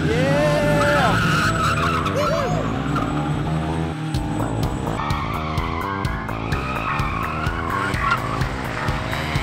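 A car drifting at a drift school, engine revving hard with long wavering tire squeals and skids, loud and close, while people talk and cheer over it.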